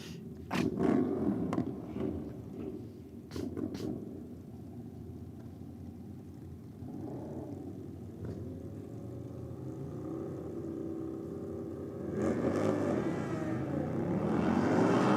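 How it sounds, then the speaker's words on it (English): Dark Side Customs Harley drag motorcycle engine roaring loud and steady down a drag strip, with a harsh, rising surge toward the end and no voices. "the Dark Side Customs Harley. Man, doesn't that sound good"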